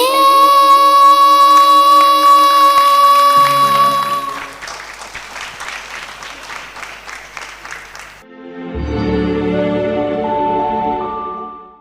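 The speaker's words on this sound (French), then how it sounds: "Des applaudissements" A concert audience breaks into sustained, loud applause after a Christmas song, the clapping dense and steady over several seconds, with a sustained chime-like tone fading out at the start and a brief lull before a second swell.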